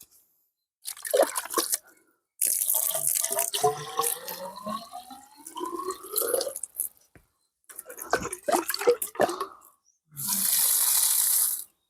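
Tap water runs in separate bursts while a fluorescent tube light is rinsed under the faucet, the stream splashing and changing pitch as the glass tube is turned and filled, with quiet gaps between.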